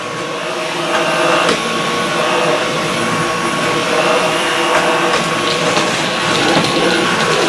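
A Dyson V11 Plus cordless vacuum cleaner runs continuously on a hardwood floor, a steady close whine with slight surges as it is moved, with no talking.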